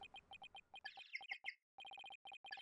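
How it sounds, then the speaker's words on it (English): Apollo Justice video game phone ringtone: bright electronic chirping beeps in quick repeated bursts with short pauses and a warbling run in the middle, clean and fairly quiet, with no talk. "That's my ringtone."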